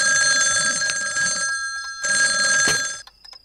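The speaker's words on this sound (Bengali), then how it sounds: "এত রাতে আবার কার ফোন?" A telephone bell rings late at night, two loud, close bursts of ringing separated by a short pause, then a brief faint tail.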